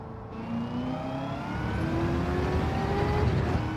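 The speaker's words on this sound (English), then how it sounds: "So y'all can hear that supercharger whine." In the video game Gran Turismo 7, a high, rising supercharger whine climbs steadily in pitch over a car engine's roar as it accelerates.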